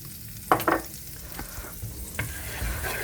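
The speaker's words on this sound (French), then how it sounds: "on mélange bien tout ça, on fait revenir" Garlic, shallot, onion and parsley sauté in a pan with a low sizzle, broken by a few sharp scraping stirs early on and a later clatter.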